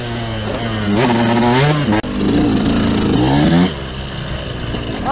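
A KTM 125 two-stroke motorcycle engine revs hard and close, its pitch rising and falling through repeated throttle blips before settling to a steadier, lower drone near the end.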